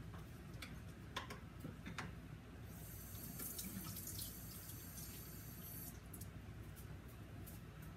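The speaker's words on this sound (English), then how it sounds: "I am gonna add a little bit of water because they are like very thick." Faint trickle of water poured into a pot of thick canned beans, a soft running splash for a few seconds amid light ticks and clinks, quiet and close with no talking.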